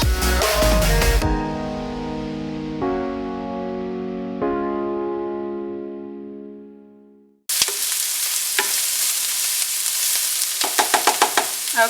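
Fading musical notes ring out and die away, then vegetables softening in a pan give a steady close sizzle with scraping stir clicks for the final few seconds.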